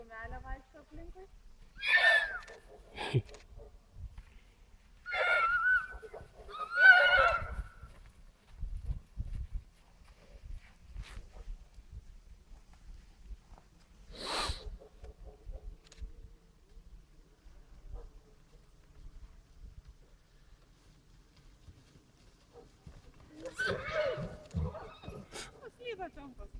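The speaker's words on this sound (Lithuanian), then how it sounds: "Ir kumelė vaikšto aplinkui." A mare whinnies and neighs in short loud bursts with long quiet gaps in between as she walks around outdoors, while a few people talk nearby.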